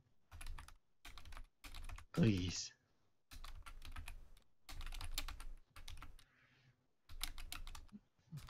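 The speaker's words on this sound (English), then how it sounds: "Sorry, typing." Bursts of fast typing clatter on a computer keyboard, close and crisp, broken by short silent gaps, with a voice speaking briefly partway through.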